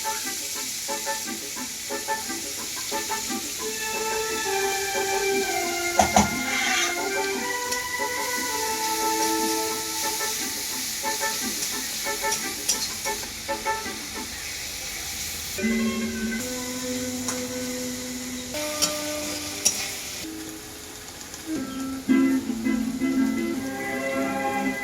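Chopped onions frying in hot oil in a pan, a continuous broadband sizzling hiss heard close up under music, with a few sharper crackles along the way.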